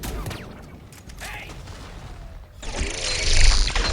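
Explosions and bursts of fire in a Valiant vs Cerberus shooter match, rumbling and crackling in a dense overlapping mix that swells louder toward the end, with a voice speaking over it.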